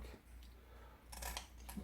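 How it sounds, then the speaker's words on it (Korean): Scissors snip through a largescale blackfish during cleaning at home, with a few quick crunchy cuts clustered near the end after a quieter stretch of handling noise. "가위로 자르시면 제일 좋죠."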